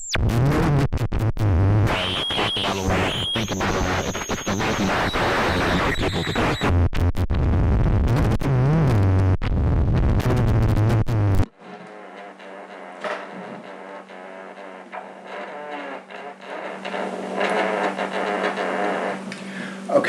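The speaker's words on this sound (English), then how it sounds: "That is the noise of this module." A homemade NyquistNightmare rev 1.0 synthesizer module emits loud, dense buzzing noise with shifting harsh tones for about eleven seconds, then drops to a quieter steady hum with faint fluctuating texture.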